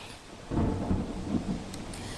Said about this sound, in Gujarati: વીજળીના કડાકા ભડાકા સાથે વરસાદની સ્થિતિ જોવા મળી